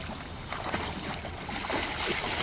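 Water splashing and sloshing steadily close by, with soft paddling movement of a dog swimming through the water and no voices.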